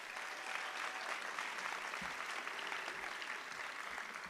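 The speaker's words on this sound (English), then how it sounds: "they deserve one more round of applause, please." An audience claps steadily in sustained, moderately faint applause at a chenda melam arangettam, a debut performance of Kerala drumming, with no voices over it.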